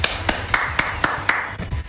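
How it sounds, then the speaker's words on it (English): Sharp, separate claps sound at a steady rhythm of about four per second, close and distinct, over a faint background hum. "Clapping man."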